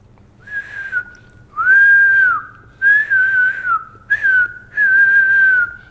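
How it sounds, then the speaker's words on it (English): A whistle blown in five separate bursts, each a clear, loud, steady tone with slight pitch wavering, separated by short gaps of silence. "This is a whistle."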